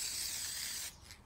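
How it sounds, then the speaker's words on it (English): Spray can hissing out silver paint onto a sword handle, a steady close, bright rush of spray that stops abruptly near the end, leaving quiet. "So we're spray painting the handle silver now."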